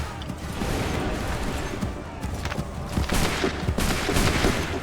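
A musket volley in the video game Assassin's Creed 3 Remastered, a dense crackle of many shots fired together, growing louder and harsher toward the end over a busy battlefield din.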